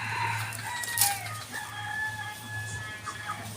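An alimbuyugin rooster crows once in a drawn-out call, fairly close, over a low steady background hum, with some soft clucking around it.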